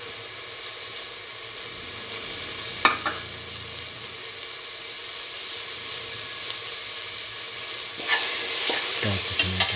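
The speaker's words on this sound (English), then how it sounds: "now put in the tomato piece." Tomato pieces sizzle steadily in a hot pan for a split pigeon pea and fenugreek rice dish, with scraping spatula stirs around the middle and again near the end, close and without talk.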